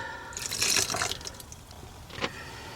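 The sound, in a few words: water poured in for Thai sweet chilli sauce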